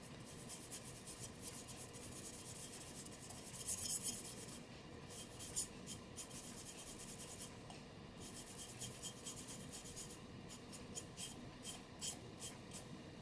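Soft, repeated rubbing and scraping strokes distress a painted farmhouse home decor piece, with rhythmic bursts of abrasive friction close by in a quiet room and no talking.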